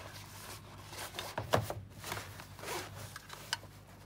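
An EasyCamp Angus folding camping table being zipped into its carry bag, heard as a close zipper pull in a few quick bursts with some fabric rustling, alone without speech.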